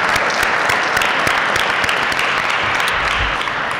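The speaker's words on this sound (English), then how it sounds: "Let's give the NBA a round of applause for being here." A crowd applauds loudly and steadily at a recreation center ribbon-cutting ceremony, dense clapping filling the whole stretch without letting up.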